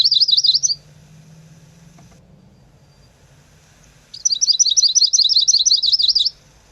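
A male warbler sings a quick, bright trilling phrase, pauses in near silence, then delivers a longer rapid warbling run, clear and close.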